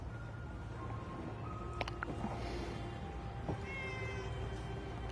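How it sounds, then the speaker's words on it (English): A cat in Fallout 4 meows a few times, faint and somewhat distant, over a low game ambience with no speech. "I heard a meow."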